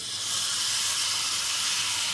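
Jalebi batter drops into very hot oil and gives a steady, bright hiss of frying that stays even and close for about two seconds, with no talking.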